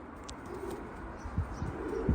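Pigeons coo softly in a coop among birds offered for sale, giving faint, low murmurs and a few brief calls over quiet background noise.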